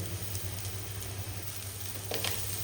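Onion and grated coconut frying in a pan, a faint steady sizzle with soft stirring scrapes, quiet throughout.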